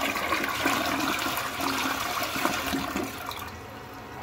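A 1998 American Standard Colony toilet flushing in a bowl wash test, a loud, close, continuous rush and swirl of water that holds steady for about four seconds before easing slightly, with no talking.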